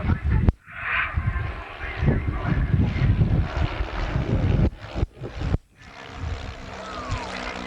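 Propeller engines of a Bücker formation aerobatic team drone at an outdoor airshow as the aircraft prepare to take off, a rumbling, wind-buffeted mid-distance sound with commentary heard over it.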